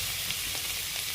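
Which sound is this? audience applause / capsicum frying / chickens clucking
capsicum frying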